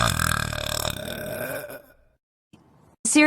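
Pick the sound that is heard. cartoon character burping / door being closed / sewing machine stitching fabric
cartoon character burping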